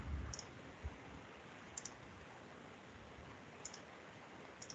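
A computer mouse clicking in Oracle Fusion software, a few faint isolated clicks spaced a second or two apart over a quiet hiss.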